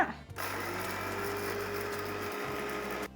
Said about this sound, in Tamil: இதை நம்ம மிக்சி ஜாருக்கு மாற்றிக்கலாம் நல்லா நைஸாக பவுடர் பண்ணி எடுத்துக்கோங்க